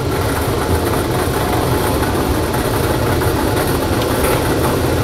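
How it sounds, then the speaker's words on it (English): A lottery draw machine runs with its mixing chambers churning the numbered balls, giving a loud, dense, continuous rumbling roar with a steady level and no talking. "Let's let them into the mixing chambers and get the machine going."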